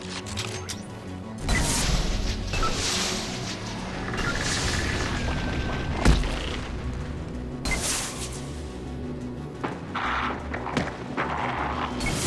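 Combat in Mass Effect 2 after a grenade throw: loud booming blasts and crashing impacts recur across the scene, mixed with gunfire and battle clutter at close range; no talking.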